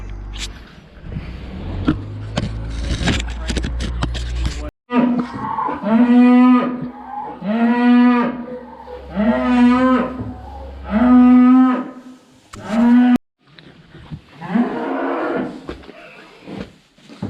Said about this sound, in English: I guess we'll turn the cows in.